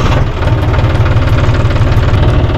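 A John Deere 5310 four-wheel tractor's diesel engine runs at a steady idle, a loud, close, continuous low rumble with a rhythmic knock and vibration, and no voices over it.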